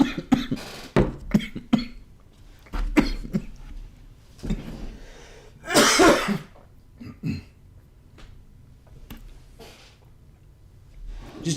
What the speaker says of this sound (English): Just choked on my drink.